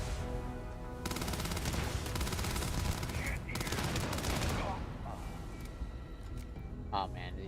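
Rapid bursts of automatic gunfire from a Starfield video game battle fill the mix, with shots stopping and starting and someone talking over them.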